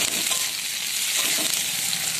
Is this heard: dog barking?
no